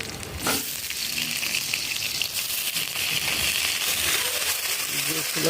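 Ginger-garlic paste fries in oil with onion and green chilli, a steady bright sizzle and crackle throughout with a brief clatter near the start, close and fairly loud, someone speaking over it.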